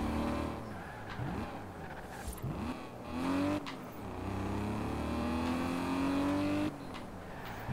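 A 1997 BMW M3 cruising in Forza Horizon 4, its engine note humming steadily and rising in pitch through the gears with loud, continuous revving and brief dips on shifts, heard alone without talk.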